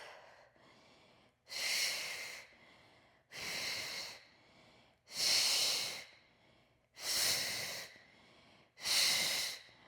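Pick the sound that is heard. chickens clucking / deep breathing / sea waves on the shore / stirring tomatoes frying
deep breathing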